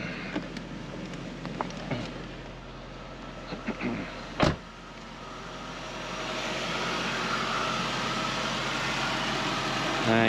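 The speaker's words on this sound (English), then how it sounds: "So we'll turn the engine off" A Jaguar S-Type R engine idles as a steady low hum, with a few clicks and a sharp knock partway through, then a smooth, even drone continues.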